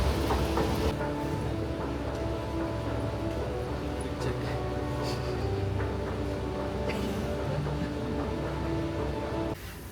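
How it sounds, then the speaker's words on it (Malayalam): Inside a moving train in Austria: a constant low rumble with a droning hum and faint rattles, steady throughout with no voices. "അങ്ങനെ നമ്മൾ ട്രെയിനിൽ കയറിയിരുന്നു."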